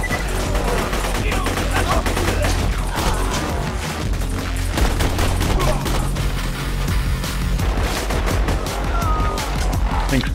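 Dense, loud gunfire from Borderlands 2, with a shotgun among the weapons, keeps blasting with barely a pause, mixed with crashes and voices over a steady rumble.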